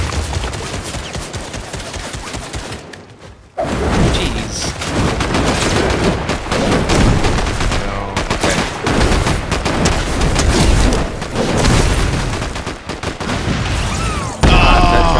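Rapid, dense gunfire from a hand cannon in Fortnite, blending with other shots and booms, loud and continuous after a brief pause near the start.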